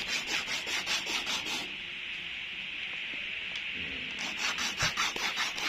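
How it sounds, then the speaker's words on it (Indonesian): A sengon (Schizolobium amazonicum) seed rubbed against an abrasive surface, a close, quiet, rhythmic scratchy rasping in quick strokes, pausing briefly midway before resuming. "Ini langkahnya gosok dulu sampai 1 mm."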